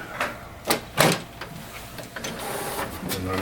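Defective HP Officejet 6700 printer whirring and clunking as its rollers fail to feed paper, with a few sharp mechanical knocks early and then a softer grinding motor hum, close up.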